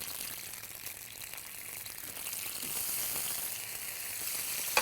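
Steady bubbling and sizzling from a cooking pan of horse gram powder mixture with a little water, a soft continuous simmer that grows slightly louder, with no talking.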